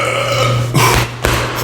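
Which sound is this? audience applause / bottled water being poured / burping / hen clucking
burping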